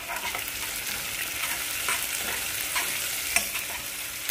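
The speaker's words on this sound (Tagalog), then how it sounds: "Haluin po natin siya ng maayos." Squid adobo with potato being stirred in a frying pan, a loud, close, continuous sizzle overlaid with repeated scraping strokes of the spoon, with no talk.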